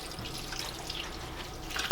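A cup of water is poured into a slow cooker over a pork roast topped with butter pats, a soft continuous splashing trickle at moderate volume that ends with a brief louder clink.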